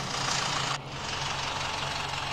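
A vehicle engine in a 3D driving video game drones continuously with a low idling rumble, steady and close, with a brief dip in the hiss partway through and no talking.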